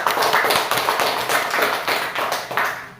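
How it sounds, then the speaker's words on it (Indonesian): Classroom applause at an Indonesian elementary school, a small group of children clapping together in a steady, slightly rhythmic pattern, close and fairly loud. "tepuk tangan buat Evelyn"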